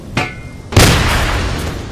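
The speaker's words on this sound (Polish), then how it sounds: "minę mnie wybuchły" An in-game mine explodes while driving a car down a hill in Roblox, a sudden loud boom with a broadband burst and a smeared rumbling tail lasting over a second, preceded by a fainter thump.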